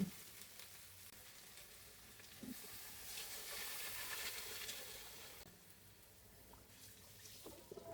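A steady hiss and sizzle as water is added to a hot pan of frying potatoes, chili, tomato and bay leaf swells in the middle, with faint clinks; no one speaks.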